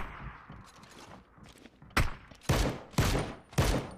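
Single shots from an MK12 rifle in a video game esports match, four loud sharp reports spaced about half a second apart, after quieter background game noise and a faint distant thump.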